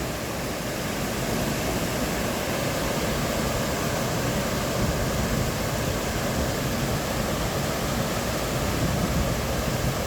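Steady, dense rush of water flowing at Confederation Park in the Thousand Islands, a continuous even wash with no breaks, close and fairly loud with nothing else standing out.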